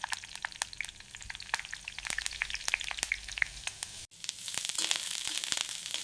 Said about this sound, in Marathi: कढईत तेल घालून लसूण आणि हिरवी मिरची छान परतून घ्या